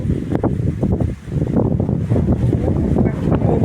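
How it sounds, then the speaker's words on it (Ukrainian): Gusty spring wind before a storm roars and buffets against the microphone in a steady, close, noisy rush with no talk over it. "Щось трохи вітер шумить, ляпотить, але ж мало"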